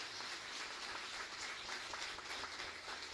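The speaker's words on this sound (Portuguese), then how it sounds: "Vamos aplaudir ao Senhor" A church congregation applauds during a service, a soft, distant wash of continuous clapping with no voices on top.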